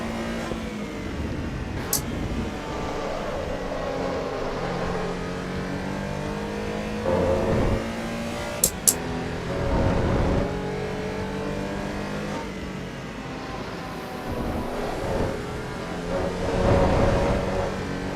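A race car in Assetto Corsa EVO revs continuously through gear changes while lapping a track during online racing, with steady engine drone, rising and falling pitch, and a few sharp clicks over the run.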